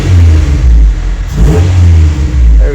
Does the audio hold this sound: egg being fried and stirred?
no